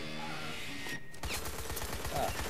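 Gunfire bursts in Wolfenstein: The New Order, dense rapid shots starting about a second in after a brief quieter stretch, loud and close with a steady battle din underneath.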